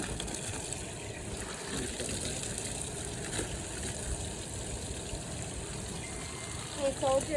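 Water rushes from a running garden hose into a backyard pool after a black German Shepherd drops it there, a steady close splashing gush that continues the whole time, with a voice faintly under it.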